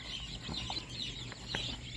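Young laying-hen chicks about 15 days old cluck and peep in a few soft, scattered calls over a steady background hum, with no talk.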